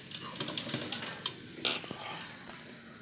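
Domestic sewing machine running an edge stitch along a lined pot-neck blouse collar, a close, quiet mechanical clatter in short uneven bursts with brief pauses between runs.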